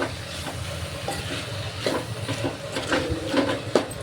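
A broad beans curry cooks in a pan, making a continuous moderate sizzle and bubbling with occasional soft stirring clicks, close by and with no talk.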